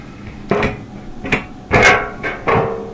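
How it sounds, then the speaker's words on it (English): Bottom panel of a Whirlpool Duet dryer being pulled out after its two quarter-inch screws are removed, giving a series of close, loud metallic clunks and scrapes in irregular bursts, with no talking. "Then we'll pull the bottom panel toward us."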